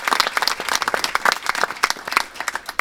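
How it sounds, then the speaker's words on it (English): A smallish crowd applauds at a ribbon-cutting ceremony with distinct, sharp claps, close and fairly loud, rising and falling over a few seconds. "If you could please help me give them a round of applause."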